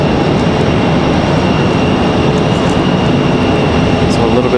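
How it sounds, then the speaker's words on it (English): A JetBlue jet airliner rolling out at Raleigh-Durham International Airport makes a loud, constant broadband jet roar with a thin high whine, unbroken from start to finish. "JetBlue getting ready to roll out."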